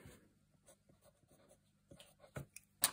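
A pen or pencil scratches along paper in short strokes while drawing a line against a ruler, soft and close, with a few light taps and scrapes toward the end.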